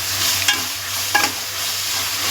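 Ginger garlic paste frying in a pan for beef curry, a bright steady sizzle with two sharp scraping stirs close to the microphone, no talking.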